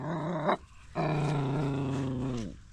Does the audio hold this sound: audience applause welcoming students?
no